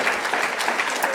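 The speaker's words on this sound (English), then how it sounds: "Can I get a round of applause?" Audience applause at a university opioids policy summit: a dense, steady wash of clapping that fills the room at a constant level throughout the brief moment, with no speech over it.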